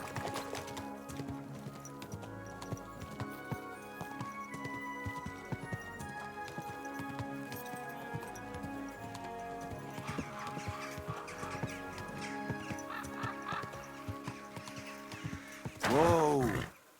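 Horse hooves clip-clopping in the medieval role-playing video game Kingdom Come: Deliverance 2, a steady soft plodding under layered game music, closing with a brief louder burst near the end.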